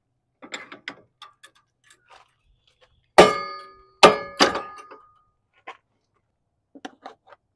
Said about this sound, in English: So now I'm going to load up the load bars.